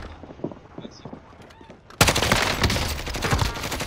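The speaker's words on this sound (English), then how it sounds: "I'm taking fire!" Heavy automatic gunfire erupts halfway through a firefight in Call of Duty: Modern Warfare, loud dense bursts after a quieter stretch of scattered distant shots.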